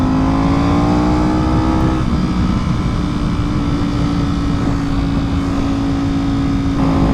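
Ducati V4 Superleggera motorcycle flat out at top speed, its engine a loud, steady high-pitched drone over heavy wind roar, with a brief pitch shift around the second mark before holding constant to the end.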